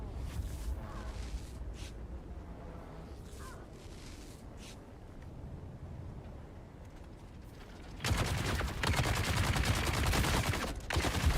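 Gunfire from the video game Dune Awakening: a low rumbling bed of muffled distant shots gives way around the eight-second mark to a loud, dense burst of rapid automatic fire that continues to the end.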